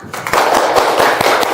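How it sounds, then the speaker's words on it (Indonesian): A classroom group of students claps loudly and briskly during a warm-up icebreaker, with dense overlapping slaps running throughout close by. "Tepuk tangan dulu untuk semua."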